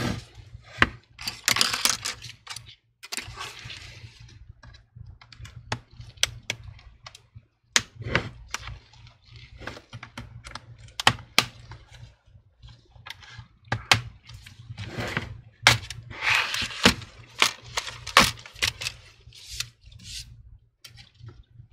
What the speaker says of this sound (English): go ahead and remove the back cover.